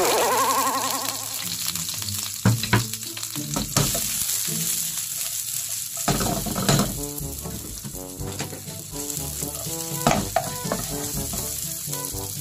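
Onion sautéing in a hot pan as the base for ginisang manok with chayote and carrot: a loud, close, continuous sizzle broken by stirring scrapes and clinks, with no voices.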